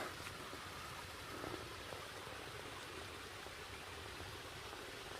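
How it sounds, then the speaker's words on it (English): A small waterfall on a mountain trail along the Appalachian Trail in Virginia, heard as a steady, even rush of falling water that fills the whole clip at moderate level with no voices. "A little mini waterfall."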